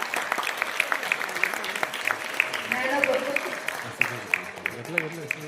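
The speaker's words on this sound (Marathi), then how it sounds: "टाळ्या झाला पाहिजे, टाळ्याचा गजर झाला पाहिजे. जोरात." Applause from an audience at a women's excellence award ceremony in Naigaon, Nanded: a crowd claps in a steady patter with sharper accents, while a voice keeps speaking over it.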